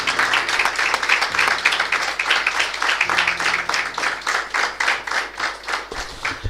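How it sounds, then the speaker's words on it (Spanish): Church congregation applauding during a Sunday morning service, dense steady clapping from many hands filling the room, with a low organ-like hum underneath before it tapers off. "¿Cuántos le dan un aplauso al Señor y lo bendicen?"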